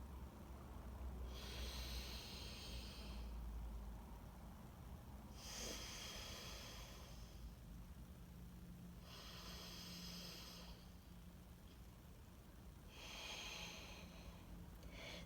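Alternate nostril breathing, Nadi Shodhana, as slow yogic breaths through one nostril at a time: four long, airy, hissing inhales and exhales spaced evenly over a steady low hum, close and fairly soft with no talking.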